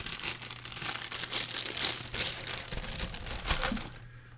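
Packaging for a DPA 4560 binaural microphone is unwrapped from its small box: close, continuous crinkling and tearing of wrapping material with a few crisp peaks, alone without speech.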